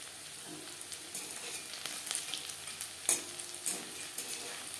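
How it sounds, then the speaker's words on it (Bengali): Cauliflower pakoras deep frying in oil, a steady crackling sizzle with occasional sharper pops and faint clinks, heard alone without any voices. "পাকোড়া বেশ ক্রিস্পি করে ভাজা হয়ে গেছে।"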